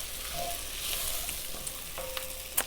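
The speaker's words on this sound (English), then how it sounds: "the garlic's going to cook up nice and fragrant in there for those last few minutes" Garlic fries in a pot for beef stew, giving off a close, even sizzle with a few light spatters and scrapes over a short stretch, and no voices.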